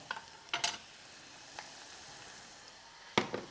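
Garlic deep-frying in hot oil, faint sizzling under a few sharp clinks and stirring knocks, with no talking.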